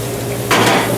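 Tilapia simmering in a cream sauce in a sauté pan, a low steady hiss that gives way to a brief burst of stirring and scraping against the pan.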